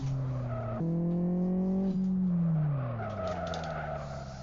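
Car tires squeal in a racing sim game, a steady whining skid tone that jumps up in pitch, holds, then slides downward and fades as the car slows.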